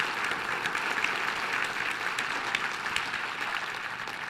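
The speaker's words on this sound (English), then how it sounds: "So give them a round of applause, please." An audience applauds at a community recovery event, a dense, even patter of many hands clapping throughout, moderately distant and steady without a clear peak.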